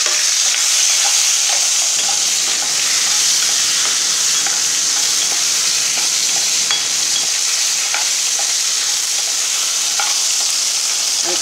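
Green chilli, asafoetida and tomato fry in a pan for coriander chutney, giving a loud, steady close sizzle with faint scraping stirs throughout and no talking.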